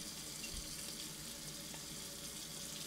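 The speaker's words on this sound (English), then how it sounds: "we're gonna add just a little bit of water" Water is poured in a thin stream into a food mixture for stuffed chicken thighs, making a steady, hissing trickle that runs close and unbroken for a few seconds.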